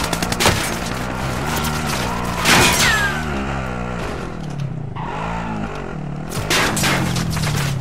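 Gunfire in Call of Duty: Warzone (Cold War era), a solos match with shotgun and riot shield: sharp bursts and volleys of shots, loud and close, interrupted by brief quieter stretches.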